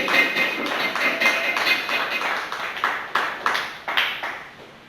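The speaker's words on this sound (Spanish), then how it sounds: "Vamos a dar un fuerte aplauso al Señor" A church congregation gives loud applause to the Lord, with many hands clapping close by in a dense, uneven patter that holds steady, then breaks into a few sharper, rhythmic claps.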